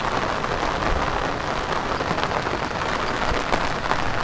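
Heavy monsoon rain pours in the Konkan countryside, a dense, constant hiss of downpour on surfaces with scattered sharper drips, steady throughout and with no voices.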